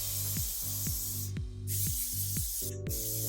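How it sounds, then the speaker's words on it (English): Sebastian Shaper brushable hairspray hisses onto hair in a string of short, close spritzes at a steady rhythm, a faint click between bursts and no voices. "I'm just gonna smooth out and hairspray my hair"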